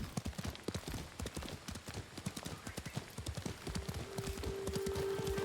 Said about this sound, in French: Est-ce qu'on va prendre la route avec le cheval?